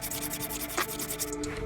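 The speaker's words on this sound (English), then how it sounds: "just got me a little 120 on a sanding block, and I'm gonna try to hit what I can hit" Hand sanding fiberglass body filler on a G-body Monte Carlo SS using 120-grit paper on a sanding block, a steady close scratchy rubbing with a quick stroke near the middle.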